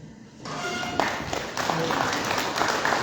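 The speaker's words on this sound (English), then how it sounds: "A big round of applause again from that presentation." Audience applause breaks out after a presentation at a governor's event on government support for the ZIG, a dense wash of clapping building quickly and holding steady, fairly close and loud.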